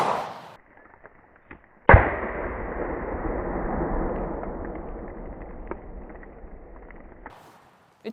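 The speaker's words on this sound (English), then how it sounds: "We're gonna do one more round with the 44" A single loud, sharp gunshot from a .44 Magnum revolver fired into old Level II body armor, followed by a long, decaying outdoor rumble and echo, with a few faint clicks and knocks before and after.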